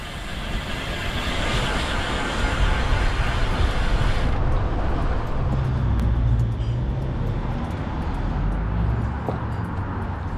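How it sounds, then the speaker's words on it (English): A car overtakes a cyclist on a road, its tyre and engine rush swelling amid steady wind noise, then the sound shifts and fades as the vehicle moves past and ahead. "this car's going to try and overtake me down here"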